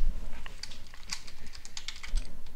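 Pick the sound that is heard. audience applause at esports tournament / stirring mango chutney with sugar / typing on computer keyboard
typing on computer keyboard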